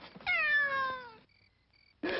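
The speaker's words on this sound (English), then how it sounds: "It's just a black cat" A black cat gives one long, clear, close meow that falls in pitch, followed by a quiet pause with faint tones.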